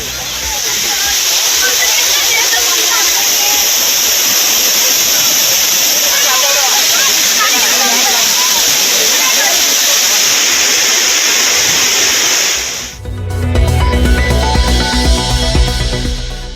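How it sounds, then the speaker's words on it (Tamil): The flooded Courtallam main waterfall roars in a loud, unbroken hiss of cascading water, dense and close, until it cuts off abruptly near the end into a different, lower sound. "அருவிகளில் ஆர்ப்பரித்து கொட்டும் வெள்ளம்."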